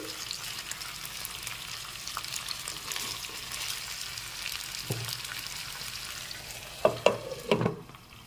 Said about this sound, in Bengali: এখন এপাশ ওপাশ করে লো ফ্লেমে রেখে ফ্রাই করে নিয়েছি।